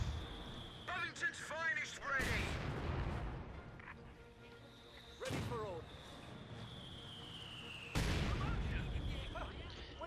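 Mortar fire in a Company of Heroes 2 one-versus-one match, heavy booming blasts landing a few seconds apart over battlefield rumble, with a commentator talking throughout.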